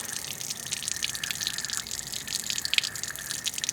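Rainwater lets loose from a pair of linked garbage-pail catchment barrels in a garden, a steady near splashing and trickling with scattered drips and no talking.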